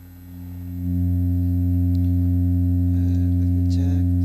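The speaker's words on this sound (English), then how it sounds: "this is the fundamental frequency" A harmonic oscillator module in a modular synth rig plays a steady sine-wave fundamental with faint harmonics, swelling in during the first second and then holding loud and constant, with faint background chatter.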